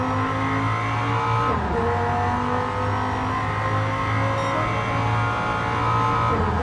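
A Gran Turismo 7 GT2 endurance race car drones loudly at high revs, with a brief dip as it shifts gear and then climbs back up under steady, continuous engine noise.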